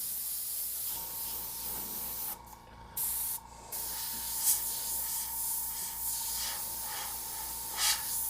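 Airbrush spraying week-old paint for a skull and crow illustration, a steady close hiss running through with two brief pauses and a few louder bursts, no voices.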